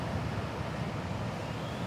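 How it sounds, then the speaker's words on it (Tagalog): Large ocean waves churn and wash in a steady, loud broadband roar with rumbling low surf, mixed with wind buffeting the microphone, continuous and close throughout with no talk. "Ang laki ng alon na yan"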